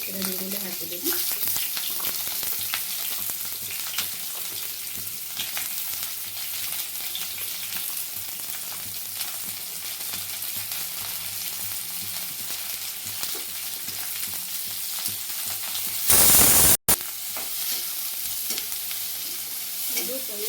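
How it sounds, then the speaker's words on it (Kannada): Two medium-sized onions fry in a pan, giving a steady sizzle broken by stirring scrapes, with a brief louder burst of sound near the end. "ಸ್ವಲ್ಪ ಫ್ರೈ ಆಗಲಿ. ಈರುಳ್ಳಿ 2 ಮೀಡಿಯಮ್ ಸೈಜು 2 ಈರುಳ್ಳಿ ಹಾಕಿದ್ದೀನಿ."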